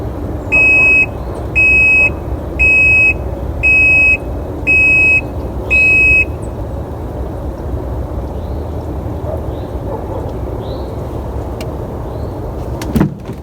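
A GIANTEX portable full automatic washing machine signals the end of its cycle with six evenly spaced, clear electronic beeps about a second apart, then falls quiet over a low background hum.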